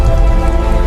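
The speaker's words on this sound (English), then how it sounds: "Rain falls heavily now" Heavy rain pours down near a river in a loud, dense, unbroken hiss of drops hitting the ground, close and constant for about a second, alone.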